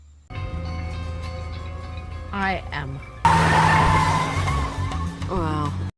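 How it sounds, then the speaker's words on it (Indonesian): A hijacked police car skids and peels away with tire squeal over a continuous engine roar, loud and close, swelling into a harsh burst midway, with a dramatic score underneath. "membawa Sarah pergi dengan ngebajak salah satu mobil polisi"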